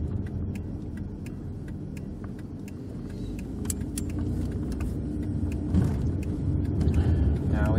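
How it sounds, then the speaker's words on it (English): A 1995 Oldsmobile 88 with the 3.8L V6 runs while driving, giving a steady low engine and road rumble throughout, with small rattles and clicks inside the cabin. "The engine's running great."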